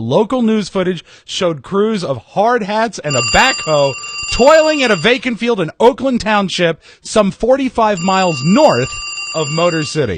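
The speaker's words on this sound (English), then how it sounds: "That's the phone." A telephone ringing in two sustained bursts of steady electronic tone, both partly buried under continuous conversation from nearby voices.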